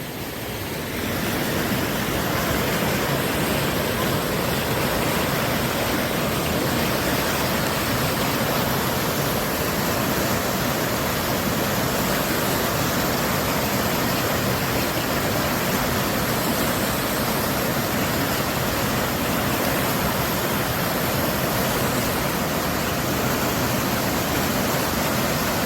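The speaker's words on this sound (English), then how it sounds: "the water going so fast" Fast-flowing water rushes through a stream in a nature area in Stonecrest, Georgia, a loud, steady, unbroken roar of water close by for the whole stretch.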